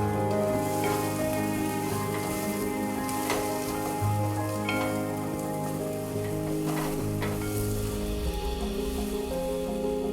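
Spiced masala with red chilli powder sizzles and fries in a kadhai, a steady close crackling hiss with soft stirring scrapes and no talking.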